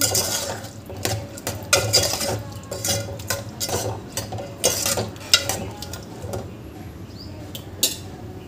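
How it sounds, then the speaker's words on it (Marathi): A spoon stirs chickpeas with salt and spices in a pot, giving irregular scraping and clinking strokes against the metal, close and moderately loud with a few sharper knocks. "इथे मी चवीनुसार मीठ घालत आहे आणि हे छान आपल्याला मिक्स करून घ्यायचं आहे"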